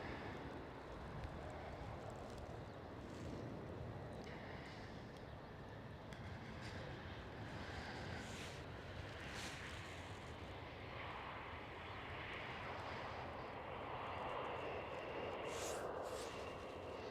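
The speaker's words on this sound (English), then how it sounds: "Next one up, KLM Cityhopper E190." A KLM Cityhopper Embraer E190 airliner passes at a distance at Amsterdam Schiphol, its engines a steady broad roar with a faint whine that swells slightly toward the end.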